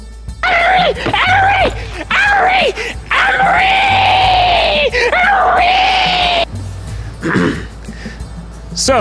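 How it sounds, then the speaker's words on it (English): A person screams, groans and yells in strained bursts while struggling through a race between a hot dog and a hamburger, with loud, wavering cries that rise and fall across the clip. "I think you were even screaming at one point."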